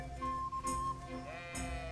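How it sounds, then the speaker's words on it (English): A sheep in the video game Kingdom Come: Deliverance gives a short, faint bleat over quiet game ambience, with a couple of soft thuds, and no talking. "Sheep. Run with the sheep."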